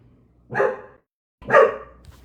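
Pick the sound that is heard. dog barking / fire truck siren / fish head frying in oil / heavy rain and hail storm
dog barking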